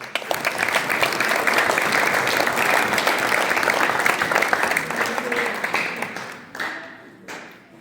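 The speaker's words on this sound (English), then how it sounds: "I just wanted to give them a round of applause for how much they've grown." A boys basketball awards banquet audience gives a sustained round of applause, thick and steady for about six seconds before tapering into a few scattered claps.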